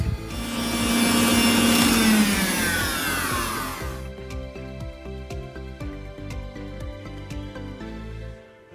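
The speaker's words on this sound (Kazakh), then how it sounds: "Қанттың барлығын салып болғаннан кейін миксерде ең үлкен жылдамдығына қойып, қозғалмайтындай плотный масса болғанша миксерлеп аламыз." An electric mixer whips meringue at top speed after all the sugar has gone in, for a poppy seed cake. It makes a loud, continuous motor whine whose pitch slides and then settles into a steady hum, with no voices.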